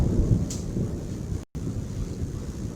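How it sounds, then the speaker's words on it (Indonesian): Thunder and rain at night around a quiet house: a low, continuous rumble with steady rainfall hiss, broken by a brief dropout midway. "Hujan pun mulai turun diiringi guntur yang bergemuruh."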